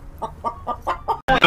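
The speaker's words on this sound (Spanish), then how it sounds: "Este código te da un sombrero de gallina y pues hace sonido de gallina." A chicken hat in Roblox Brookhaven gives a run of about five rhythmic clucks followed by a louder squawk, close and clear with no talk over it.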